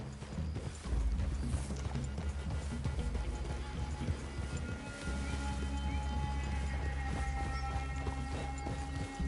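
Horses' hooves clopping steadily through a forest clearing in Red Dead Redemption 2, a continuous rhythmic patter over low rumbling ambience, moderately close and without speech.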